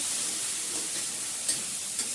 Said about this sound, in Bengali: আর মাছটা ভাজা হয়ে গেছে, এর মধ্যে দিয়েছি পেঁয়াজ বাটা, রসুন, আলু, আদা বাটাও দেবো।